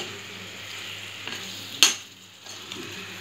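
Sweet raw mango pickle cooks in a pan, a soft steady simmering sizzle with a single sharp clink of a utensil partway through, then quieter bubbling.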